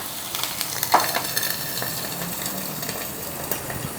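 Eggs fry in a pan for an egg dish cooked with crispy bacon, a steady close sizzle broken by small pops and spatters, with a spatula scraping now and then and no voices.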